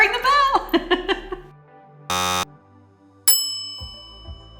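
A bright notification bell dings once, sharp and ringing, after a brief buzzy tone and some speech, its chime decaying slowly into silence.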